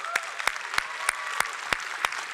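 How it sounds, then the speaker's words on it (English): A convention audience at a gaming showcase applauds steadily. The clapping is dense and sustained, with a few sharp louder claps standing out at a regular pace across the burst. "Let's give them a round of applause"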